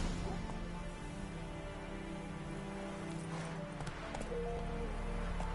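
Hoofbeats of Roach, the horse in The Witcher 3, a steady rhythmic clip-clop gallop close by, with ambient rain-like background and faint game music beneath.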